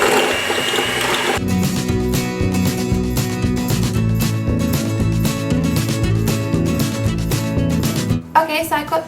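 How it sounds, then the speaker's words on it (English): Butter and icing sugar are whisked in a bowl with an electric mixer, a loud, steady mechanical whir with a rapid pulsing rattle that runs continuously, then stops abruptly near the end, leaving a short clatter. "And whisking it up."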